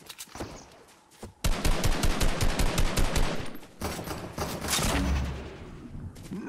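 Rapid automatic gunfire from the Fortnite video game, dense bursts running loud for several seconds, pausing briefly, then resuming at a slightly lower level.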